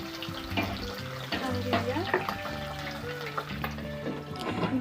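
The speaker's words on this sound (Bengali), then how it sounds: "এবার আমি এক এক করে মাছগুলো কড়ার মধ্যে দিয়ে দিচ্ছি" Pabda fish frying in mustard oil in a kadai, giving a steady crackling sizzle throughout, partly masked by melodic background music.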